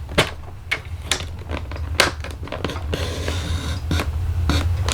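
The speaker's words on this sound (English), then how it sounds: "I know that I can put that right into my track, and I'm going to cut that down" A card strip slides along a paper trimmer track and is cut, a series of sharp clicks and taps followed by a longer rasping scrape of the blade, close and dry with no talking.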